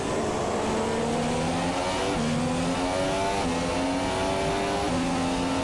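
Race cars in an F1 video game race at the Brazilian Grand Prix accelerate uphill, a loud continuous engine whine rising through repeated gear shifts.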